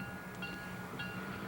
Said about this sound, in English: Here's a westbound passenger train about to leave Field at the old station.